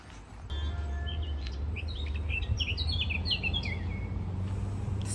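Several small birds chirp and twitter in quick, high bursts in Polyana in the Carpathians, over a low steady background hum, fairly close and clear.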